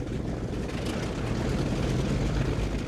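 A Douglas DC-3 propeller airliner with a 95-foot wing drones steadily, a loud continuous low engine and propeller rumble with a constant broad roar and no talking.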